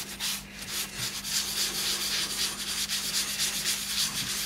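Finish is rubbed by hand into a laurel wood box held on a stationary lathe, producing a steady, quiet, scratchy rubbing with rapid back-and-forth strokes.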